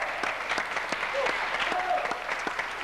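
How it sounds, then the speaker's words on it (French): A television game show studio audience applauds a contestant, steady dense clapping throughout with a voice speaking over it. "Alors, on applaudit encore une fois"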